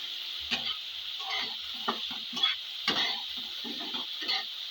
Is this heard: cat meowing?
no